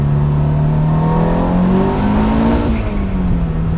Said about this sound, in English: Just the turbo noises that you hear.